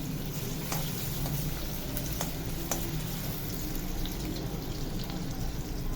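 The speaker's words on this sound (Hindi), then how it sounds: "1 डली प्याज की दरमियाने साइज की, सौते करेंगे लाइट गोल्डन हो जाए।" Onion sautéing in oil in a pan while cooking chicken gizzards, a steady close frying sizzle with a few faint clinks, no talking.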